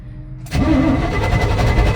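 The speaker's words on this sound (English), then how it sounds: "Okay, it cranks now." A car engine cranks and then catches after a carburetor replacement, starting with a sudden loud roar and settling into a rough, steady running note close by.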